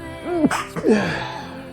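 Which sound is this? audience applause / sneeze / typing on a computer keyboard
sneeze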